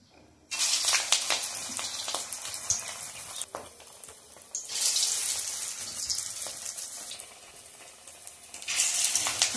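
Bottle gourd leaf fritters deep frying in hot white oil in a kadai, a loud, steady crackling sizzle that starts abruptly and swells in waves, close up with no talk.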